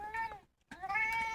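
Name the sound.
cat meowing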